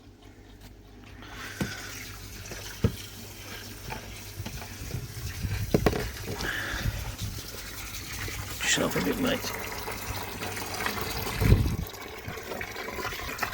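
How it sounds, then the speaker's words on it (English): Water splashes and pours over a deep fryer in uneven bursts, with liquid hissing and running, while people talk nearby. "I'm putting all the water all over it"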